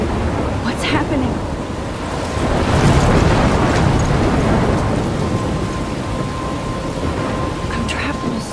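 A storm in the Life is Strange video game: steady heavy rain pours throughout while deep thunder rumbles and swells in the middle, with faint crackling bursts on top.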